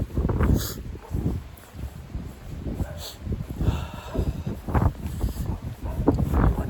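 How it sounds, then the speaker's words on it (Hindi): Strong early-morning wind gusts on the bank of the Ganga batter the microphone in repeated surges, loud and close, with faint rustling in between. "इतनी तेज़ हवा"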